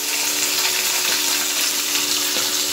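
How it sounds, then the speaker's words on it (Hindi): Rohu fish frying in a pan for a curd fish curry, giving a steady, loud broadband sizzle that runs unbroken throughout with no talking. "अब इसको हम फ्राई कर रहे हैं"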